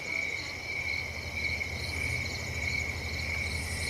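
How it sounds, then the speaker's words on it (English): Crickets chirp in a steady, layered chorus of high pulsing trills, several insects overlapping continuously at moderate loudness with no voices. "Those are crickets. They make that sound when they rub their legs together."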